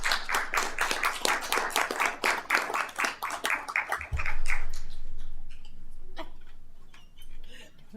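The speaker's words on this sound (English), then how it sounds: "I want to give them a round of applause for the work they do in our community." Round of applause at a city council meeting: a burst of many hands clapping fills the room for about four seconds, then fades into quieter room noise with a few scattered claps.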